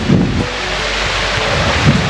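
A small mountain stream flows along a trekking trail in the Vicentine mountains, its water running with a steady, even rush that stays constant and close with no voices.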